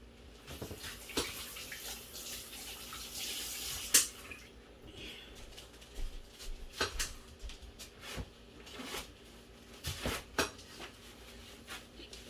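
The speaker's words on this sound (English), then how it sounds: "I'm gonna wash my hands" Hands washed under a running kitchen tap, faint steady water flow with splashing and rubbing, plus a couple of light clinks nearby, no talking.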